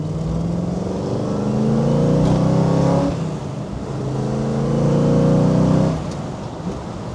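A 1964 Chevrolet Corvette L79 with a 327 small block accelerates hard from inside the car. The engine note climbs loudly in two rising pulls, separated by a brief dip at the gear change.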